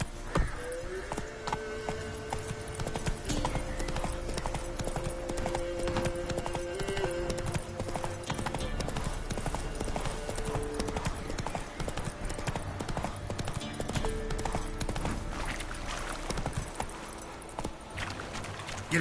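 Horse hooves clip-clop at a steady trot in the video game The Witcher 3: Wild Hunt, the rhythmic beats running continuously for the whole stretch beneath tonal game music and ambience.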